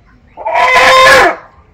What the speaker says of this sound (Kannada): ಇದೆಲ್ಲ ಪಂದಿದ ಕೋಳಿಗಳು